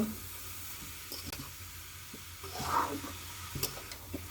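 Pumpkin and egg fry in a pan under steady soft sizzling while a utensil stirs them, adding light scraping and a few faint taps close by, with no voice.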